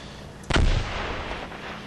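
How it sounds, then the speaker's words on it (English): A mortar round lands in the Combat Mission Market Garden strategy game, a single heavy thump near mid-clip with a low rumble that fades over the following second. "Sounded like a mortar round coming in."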